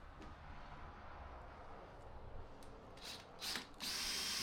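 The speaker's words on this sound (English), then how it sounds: "So I've just got to be careful where to do this drilling." A power drill bores into fragile plywood, its whine rising in a few short bursts near the end and then running steadily, close and fairly quiet over a low background rumble.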